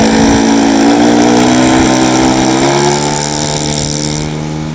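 Pawnee model airplane engine held at full throttle, a loud steady high buzzing drone with a strong tone that shifts slightly in pitch and eases off in volume near the end, no talk.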